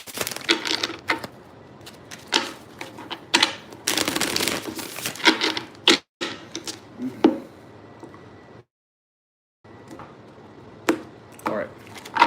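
Tarot cards being shuffled in repeated bursts of crisp riffling and soft slapping, close and fairly loud, with a short silent pause partway through.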